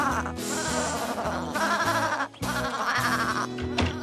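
A sheep bleats repeatedly in a farmyard scene from a children's animated show, giving loud, wavering cries with a short gap between calls over light backing music.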